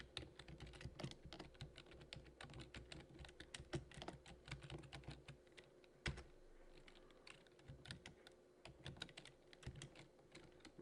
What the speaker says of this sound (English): So I'm just going to type in my own stuff here.